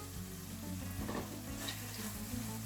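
Sausage mince frying in a pan while being stirred, a steady close sizzle under a low hum with occasional scraping of the spoon, no talking.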